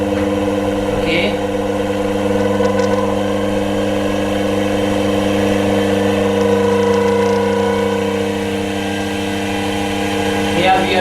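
An electric motor used as a generator hums steadily at increased RPM, a loud, close, continuous tonal whine with a faint change in pitch near the end, and no talking.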